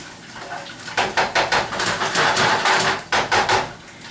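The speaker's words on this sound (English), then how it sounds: "we're going to stir these onions." A utensil stirs onions in a pan with a quick run of loud, rhythmic clanks and scrapes against the metal, then a short pause before another burst.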